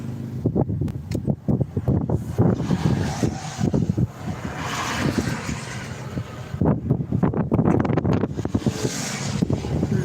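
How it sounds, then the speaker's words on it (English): Strong wind gusts of 66 to 70 mph buffet and roar against the microphone in irregular bursts during a storm in the Texas Panhandle, loud and close, with rumbling bursts throughout. "I'm popping like 66 to almost 70 plus mile per hour wind gusts in this little pocket"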